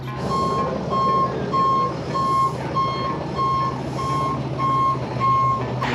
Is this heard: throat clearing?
no